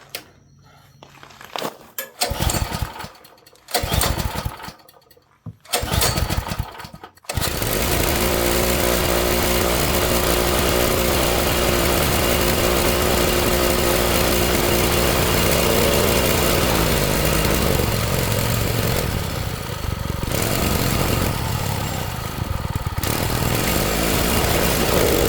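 A garden tiller engine sputters through a few rough, uneven false starts, then settles into a continuous loud, unsteady run that keeps going, with no talk over it.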